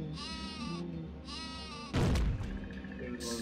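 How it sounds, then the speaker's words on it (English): Cartoonish bleating from the Super Sheep weapon in the video game Worms Armageddon sounds twice in loud bursts, followed by a heavy thudding explosion and a final brief bleat. "Oh, super sheep."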